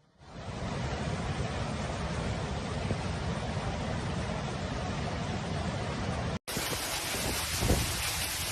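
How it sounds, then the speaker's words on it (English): Heavy rain pours steadily during a storm in Palermo, a dense continuous hiss close by that cuts out briefly near the end and returns at full strength. "the storm dumped over the 8 mm of rain in just 1 hour"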